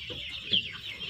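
KUB chickens cluck steadily inside a postal-style coop, with soft overlapping calls and one slightly louder cluck near the middle, all at a moderate distance and with no talking.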